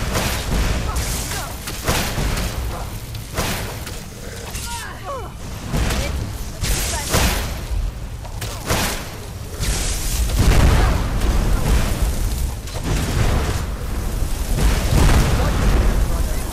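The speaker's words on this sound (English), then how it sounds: "Now I'll put on fire breath." Fire breath dragon shout in the video game Skyrim: loud, rumbling roaring bursts that surge and fade repeatedly across the whole stretch, dense and forceful with no clear pauses.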